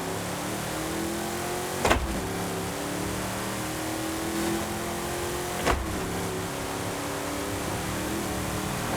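A car engine in Forza Horizon 5, driven with a steering wheel, holds a steady rising drone as it gains speed down a main road, fairly quiet, with two sharp clicks like gear shifts partway through.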